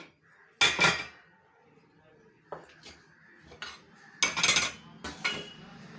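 Dishes and pots clatter as hot cooked rice is served into a hotpot for a home lunch, with several sharp bursts of clinking ceramic and metal spaced between quieter handling sounds, close by.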